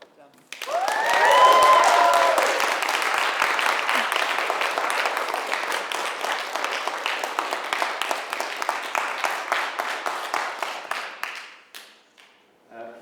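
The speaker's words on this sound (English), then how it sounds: "I think it was easy to applaud that amazing performance" An audience applauding after a talk, a swell of clapping with a few whoops that rises quickly, stays full and even, then thins out into scattered claps near the end.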